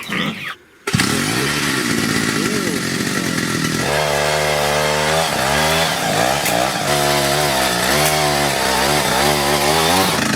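Handmade motor-cultivator engine plowing hard garden soil, a loud, close, buzzing small-engine drone that revs and labors in waves as the load changes, after a brief gap at the start.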